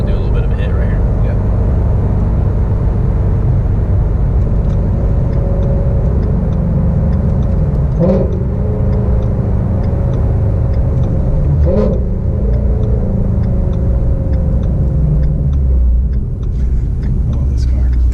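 A Ford GT350 with a 600R flex-fuel engine rumbles deep and loud from inside the car on a test drive, a steady low drone with a couple of brief revving surges. Occupants talk over it.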